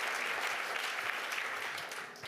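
Applause for three award nominees at a corporate engagement trophies ceremony: a steady, dense round of clapping from a crowd that carries on evenly for about two seconds.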